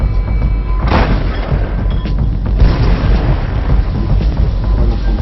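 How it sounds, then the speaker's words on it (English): Artillery shells explode beside a target: heavy, rumbling blasts roll through continuously, with a sharp burst near the start and further deep booms layered over a sustained low roar. "The shells explode beside the target,"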